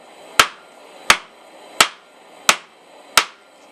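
Five evenly spaced, sharp hammer strikes on hot steel while forging a leaf key chain, light blows drawing out the metal, each ringing clang decaying quickly, close and alone without talk.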